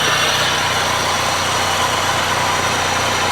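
A limited edition Mazda Miata idles with the air conditioning switched on, a steady, close, loud engine drone and broadband hum with low rumble and no change over the moment.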